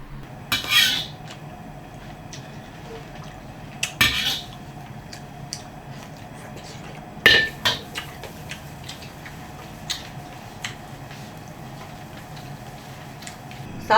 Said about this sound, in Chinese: 把它切成小块儿。